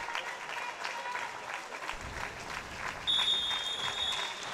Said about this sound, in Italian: ricevono comunque gli applausi i ragazzi del Montecchio, del pubblico.